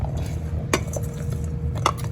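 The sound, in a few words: mixing cucumbers, tomatoes and onion in a bowl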